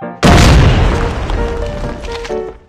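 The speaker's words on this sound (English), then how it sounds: "Flashbang!" A flashbang grenade goes off in a military shooter video game as one sharp, loud blast that hits hard and then fades into a long, rumbling, ringing decay.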